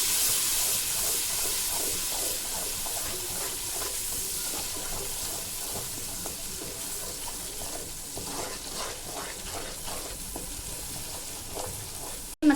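Nihari masala with a little water frying in a pan, a continuous hiss and sizzle with rhythmic stirring scrapes throughout and a sharp knock right at the end.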